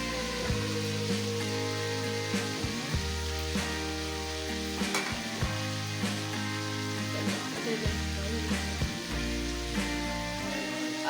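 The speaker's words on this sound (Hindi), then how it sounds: "कोफ्ते हमने बीच में ऐड कर दिए ऑयल में। अब इसको फ्राई होने देते हैं।" Meat koftas frying in hot oil over medium heat, a loud, dense, continuous sizzle and crackle heard up close, with a low hum running beneath and no talking.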